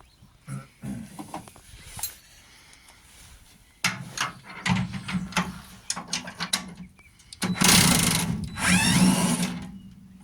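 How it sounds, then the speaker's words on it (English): A power tool whirs in bursts while working on a Land Rover, with a loud sustained run near the end, mixed with clanking and workshop handling noises. "Power tools are great."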